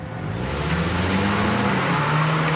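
Stunt car driven around a wet track, its engine a steady loud drone with low rumble and a rising pitch as it accelerates, tire and spray hiss spread across the upper range, close and continuous without talk.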